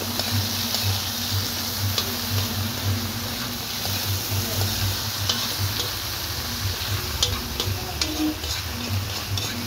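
Pork humba cooking over a wood fire, a steady loud sizzle and bubbling with crackles and occasional ticks running throughout, close and continuous with a constant low hum beneath.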